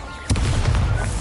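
A fire spell cast in a wizarding video game erupts in a sudden burst, then a sustained low roar of flame rolls on for about a second, loud and close with no talk over it.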